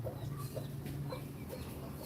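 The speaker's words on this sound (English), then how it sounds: "Oh, chickens are all down there now." Chickens clucking outdoors at a rural spot in the Philippines, with soft, scattered clucks over a steady background hum and no speech.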